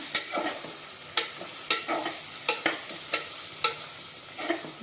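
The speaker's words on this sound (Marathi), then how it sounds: "थोडीशी हळद आपण परतून घेऊया मिक्स करूया" Turmeric and veg biryani masala sautéed and stirred in a pan: regular scraping spatula strokes, about one per half second, over a steady close sizzle with no talking.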